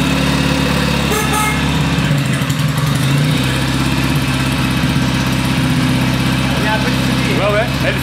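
A Kawasaki 650 W1 motorcycle idles after a kick start, its engine a loud, close, steady throb with a regular low beat, while people talk over it.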